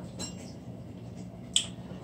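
Two light metallic clinks of a lid on a pot of cooking cow foot with yellow split peas, ringing out against a quiet background, one soft and one sharper.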